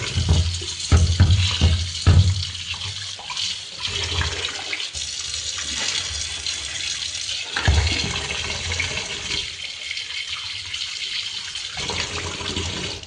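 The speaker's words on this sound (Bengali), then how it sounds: "চালগুলোকে আমি ভালো করে ধুয়ে নেব" Biryani rice is washed in water, with splashing and swishing that is loudest early on, a steadier trickle of running water through the middle, and another surge near the end.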